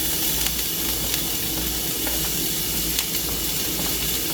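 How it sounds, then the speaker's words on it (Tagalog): Chicken sizzling steadily in a hot pan while being sautéed for lechon paksiw, a continuous close, even hiss with faint crackles throughout and no talking. "Gisa natin to."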